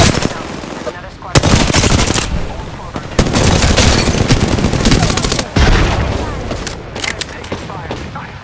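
Heavy automatic gunfire from an Apex Legends match, dense rapid bursts loud and close, broken by short pauses and a few booming impacts, with scattered game voice callouts.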